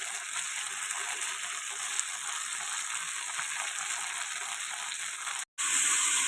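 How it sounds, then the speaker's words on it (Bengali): Spiced paneer frying lightly in a pan, a steady, even sizzle running close and moderately loud throughout, with a brief dropout near the end. "পনিরগুলোতে একটু মশলা মাখিয়ে নিয়েছি, এবারে হালকা করে আমি ভেজে নিচ্ছি"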